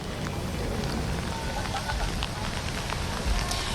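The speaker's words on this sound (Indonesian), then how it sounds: "saya melaporkan di tengah hujan deras" Heavy rain pours steadily during a street demonstration against a fuel price hike in Makassar, a dense continuous hiss with low rumble and scattered drops, loud and unbroken throughout.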